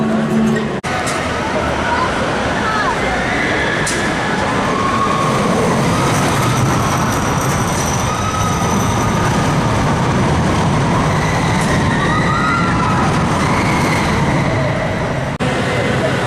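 Mission Ferrari roller coaster ride at Ferrari World: a loud, steady roar of rushing wind and rumbling track runs throughout, with voices mixed in.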